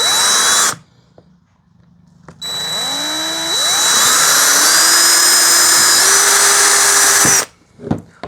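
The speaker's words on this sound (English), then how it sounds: "So we're gonna drill some holes" A power drill whirs loudly in two bursts drilling holes in a kayak, the second spinning up and holding a steady high whine before cutting off, with a brief clatter afterward.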